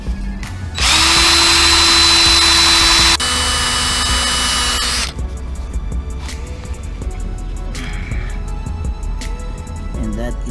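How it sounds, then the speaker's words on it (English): A power drill with a titanium bit whines loudly and steadily for several seconds on a BMW E46 U-joint, its pitch dropping partway, then cuts out, leaving faint clatter and background noise. "I'm gonna start using titanium drill bit."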